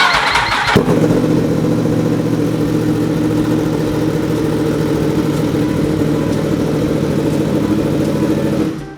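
A Yamaha R1 sport motorcycle engine starts with a quick crank, then settles into a loud, steady close-up idle that runs until the end.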